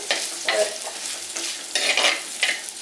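Sliced onions are stirred and sautéed in a hot pan for a silver belly fish curry, with a continuous close sizzle broken by repeated scraping strokes of a spoon against the pan, and no talking.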